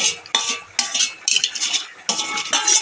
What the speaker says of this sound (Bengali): ওটা আমি হাতা দিয়ে আমি বেটে দেবো